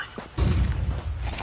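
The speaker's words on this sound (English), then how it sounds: "Deploying flashbang." A flashbang grenade goes off in a video game: a short thump, then a heavy, muffled boom that swells and holds as a rumbling roar for about a second.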